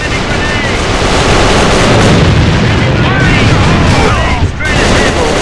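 Enemy grenade exploding in the shooter game AVA, a loud sustained blast and rumble with gunfire-like bursts, under a player's shouted voice.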